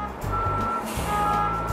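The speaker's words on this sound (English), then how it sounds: "I go out to get the buses." A CTA transit bus sounds steady reversing beeps over a low diesel engine rumble, with a few air-brake hisses in between, close by.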